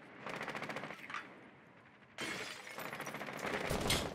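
Rapid automatic gunfire in a first-person shooter, a loud close burst of fast rhythmic shots, a short lull, then another sustained volley with sharp cracks and impacts.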